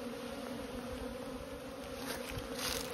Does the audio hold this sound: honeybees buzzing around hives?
yes